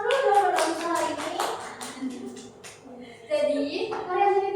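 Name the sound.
classroom clapping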